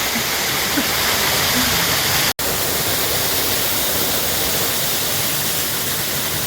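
A waterfall roars as a constant, dense rush of falling water heard close and loud, with one brief dropout partway through.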